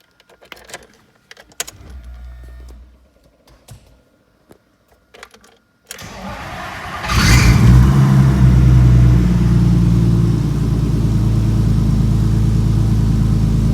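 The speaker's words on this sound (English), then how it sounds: "I guess I will quick fire it up, and this will double as a cold start." An S52 turbo engine in a right-hand-drive long-roof car, heard over a cold start. Clicks and rattles come first, then a cranking whir catches into a loud, close idle that surges once before settling to a steady, heavy drone.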